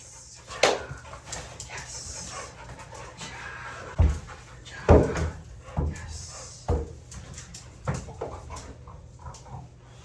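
Adult rescue dogs pant and whimper at a boarding kennel, with sharp knocks and thumps scattered throughout, including several louder bumps near the middle, against a busy indoor background.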